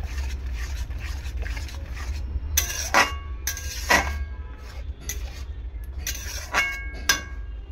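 Metal spatula scraping and stirring cooked masoor lentil dal with ash gourd in a pot, giving a run of close, irregular clinks and scrapes with a few sharper metallic knocks over a steady low hum.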